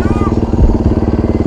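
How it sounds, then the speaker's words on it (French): Dakar rally motorcycle engine running close up with a steady pulsing throb, loud and continuous, with a brief rising tone near the start. "je monte derrière une moto de Dakar"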